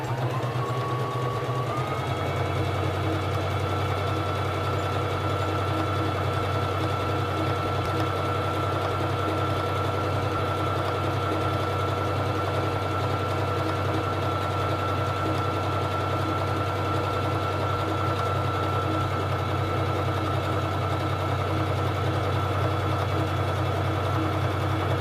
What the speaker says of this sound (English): Now I'm going to sew the honeycomb stitch. Bring down the presser foot lifter and begin sewing.